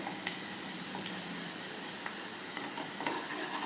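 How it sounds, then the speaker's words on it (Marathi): Onion sizzles steadily in a pan, frying until pink for a dal and potato amti, with a soft continuous crackle and a few faint clicks and no voices. "आता कांदा व्यवस्थित गुलाबी रंगावर परतायचा आहे"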